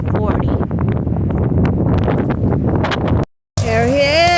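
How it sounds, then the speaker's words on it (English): Strong wind of about 40 mph roaring through pine trees, a loud, dense rush buffeting the microphone, with a brief silent gap near the end and then a sustained gust. "They said it's only like 40 miles per hour wind,"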